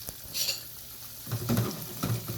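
Chicken pieces for a KFC-style Zinger burger sizzle as they deep fry in hot oil, with occasional spoon stirring and clinks against the pan; close, moderate level, and no voices.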